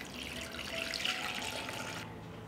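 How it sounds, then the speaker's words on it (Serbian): Water pours steadily into a cooking pot holding glass jars set on a cloth at the bottom, ready for pasteurizing. The close, continuous splashing lasts about two seconds, then stops. "Sipat ću vodu u šerpu do visine pogrca."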